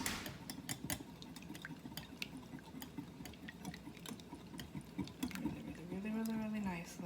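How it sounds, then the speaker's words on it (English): Eggs beaten with a whisk in a bowl for homemade hash browns, a fast irregular run of light clinking and scraping strokes, close up, with faint background noise and a brief tonal sound near the end. "then you're going to take your whisk, mix it up really nicely"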